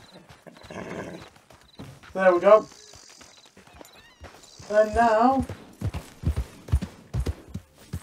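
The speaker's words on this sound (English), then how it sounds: "Wait for John to get his horse." A horse in the video game Red Dead Redemption, with two clear whinnies followed by clopping hooves as it approaches, while a player talks over it.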